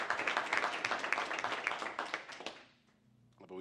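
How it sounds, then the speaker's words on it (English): People at a city council meeting give a round of applause, a burst of crowded clapping that thins out and dies away after about two and a half seconds, leaving a quiet room. "If we could give Chief Cook a round of applause"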